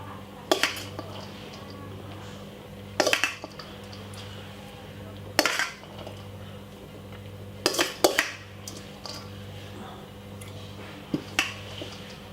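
Egg fried rice is served up with utensils clinking and scraping against dishes in a kitchen, six or so sharp metallic knocks spaced a couple of seconds apart over a steady low hum.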